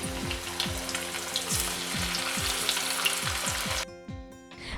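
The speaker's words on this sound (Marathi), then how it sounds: "हे ओले बोंबील लोखंडी तव्यात कमी तेलातही खरपूस भाजले जातात" Bombil (Bombay duck) fish fry on an iron tawa in a little oil, giving a steady close crackling sizzle cut by regular scraping strokes, with no voices, before the sound drops away near the end.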